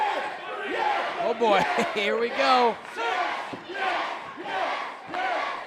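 Wrestling crowd at the Ocean View Pavilion roaring and chanting in loud rhythmic bursts, with excited commentators talking over the noise throughout.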